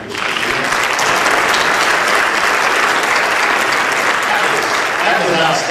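A large audience at a high school hall of fame induction applauds a video, a loud, dense, continuous roar of clapping that holds steady throughout with no distinct voices.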